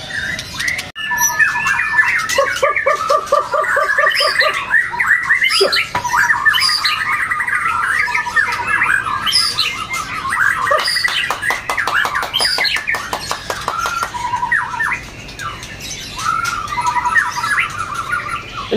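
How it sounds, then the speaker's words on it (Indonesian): A forest magpie-robin (murai hutan) sings loudly and close by, a continuous run of varied whistles, trills and sharp squawky phrases. "Itu murai hutan tadi, Om."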